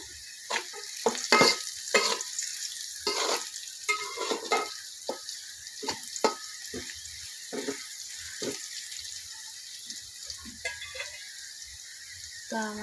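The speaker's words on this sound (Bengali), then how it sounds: "তো আমি নাড়াচাড়া করে নেব" Spices including radhuni and salt fry in a pan while a spoon stirs them, producing irregular scraping strokes over a soft background sizzle, close and fairly loud.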